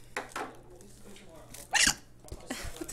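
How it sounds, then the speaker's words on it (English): A person hiccups mid-conversation, with a sharp, sudden hiccup standing out amid nearby talk and breathy vocal noises. "I'm burping and just hiccuping all over you"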